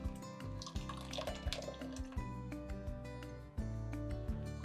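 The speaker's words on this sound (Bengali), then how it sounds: "এই যে এবারে ছাঁকনি দিয়ে ছেঁকে নিচ্ছি।" Tomato liquid pours through a sieve, giving a quiet steady trickle with scattered drips and small splashes, all faint and close.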